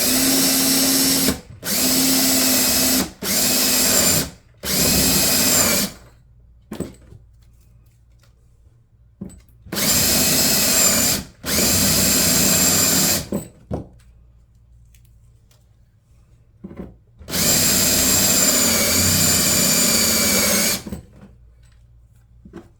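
A power drill bores a 1-inch hole through a plastic kayak hull in repeated loud, close bursts of whining, separated by short silent pauses.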